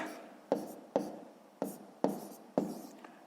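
A pen or pencil writes numbers by hand on paper, giving five distinct scratchy strokes at an uneven rhythm, close and fairly quiet, with no talk.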